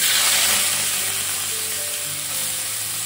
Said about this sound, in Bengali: খুব অল্প তেলে এখন এই চিংড়িগুলোকে ভেজে নেব